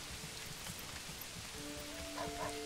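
Steady rain pours across the village of Manor Lords, a dense even hiss with scattered drop patter, joined by soft sustained musical tones partway through.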